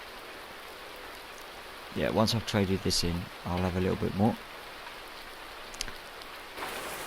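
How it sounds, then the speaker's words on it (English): Steady rain falls across a farm in Farming Simulator 19, a constant broadband hiss beneath someone speaking briefly midway. "It's raining, as you can see."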